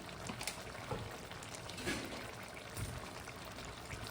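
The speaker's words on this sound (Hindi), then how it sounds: "और ऊपर से डाल देंगे 1 टीस्पून मस्टर्ड ऑयल।" A teaspoon of mustard oil poured over a raw mango and prawn curry topped with fresh coriander leaves, a soft, steady liquid hiss running unbroken at low level with a few faint clinks.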